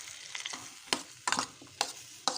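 Chopped tomato and onion fry in a pan for a capsicum gravy curry, sizzling under a few sharp, uneven stirring scrapes, close and with no voices.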